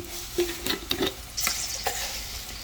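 Fennel seeds land in hot oil in a home Indian kitchen, setting off a brief crackling sizzle, with scattered stirring clinks and small sharp taps against the pan throughout, with no talking.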